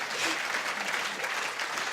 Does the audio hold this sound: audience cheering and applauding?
yes